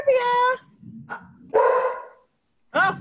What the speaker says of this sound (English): see, the dog's excited